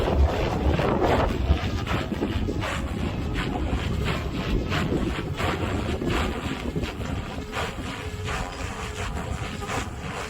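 Strong wind at an RC helicopter flying field, a loud, steady, rumbling roar on the microphone with rapid fluttering gusts throughout and no voices.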